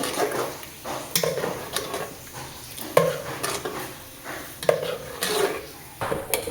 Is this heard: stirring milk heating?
yes